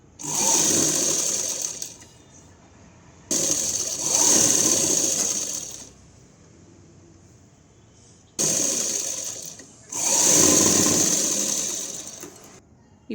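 A sewing machine stitching piping onto a lining blouse hums in three strong, even runs of a few seconds each, close and loud, with quiet gaps between runs.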